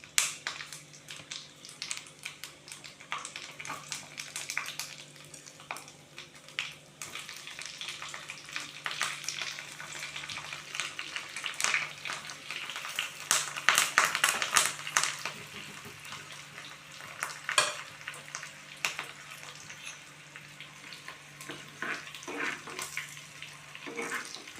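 Black pepper, cumin and cashews frying in ghee for a millet pongal tempering, with a soft continuous crackling sizzle and scattered sharper pops throughout, fairly quiet and close.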